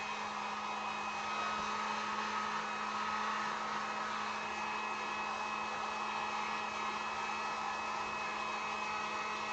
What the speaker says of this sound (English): Let me get this with the heat gun.